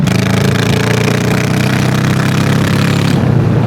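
A Honda Shadow 1100 bobber motorcycle rolls on the throttle, its loud, steady engine rumble droning continuously up close before easing slightly near the end.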